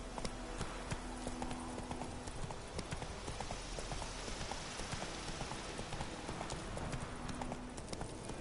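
Hooves of the horse Roach clip-clop steadily through The Witcher 3 game world, a continuous rhythmic trotting at moderate loudness with faint background ambience.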